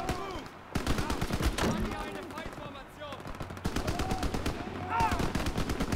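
Gunfire in Call of Duty WWII: dense bursts of rifle and machine-gun fire, loud and near, with shots cracking repeatedly across the whole stretch and a voice shouting between them.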